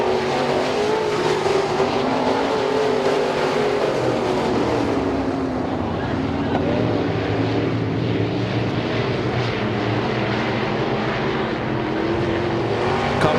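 Race cars on the final lap at the Speedzone track roar past in a continuous loud engine drone that swells and fades as the pack goes by, with no talk over it.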